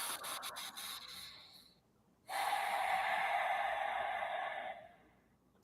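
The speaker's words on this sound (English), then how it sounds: "Just continue breathing." Breathing during a guided breathing exercise: a long, close, breathy exhale and inhale, with a quiet pause between them and no talk.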